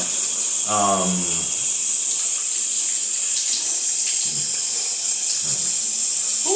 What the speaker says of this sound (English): Ooh, that's hot, hot water.